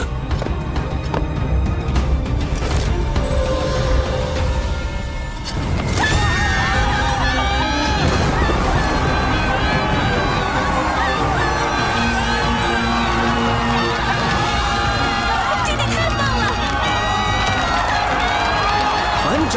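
A large crowd cheers and shouts for a newly crowned alliance leader in an animated fantasy series, a dense, loud roar that runs the whole time with a brief dip near the middle, then swells back up.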